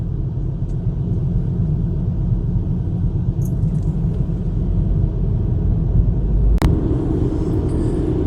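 Steady, close engine and road rumble from a car on a road trip, cruising slowly through a 30 km/h zone, with a brief sharp click partway through and no talk.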